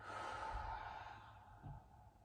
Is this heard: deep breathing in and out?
yes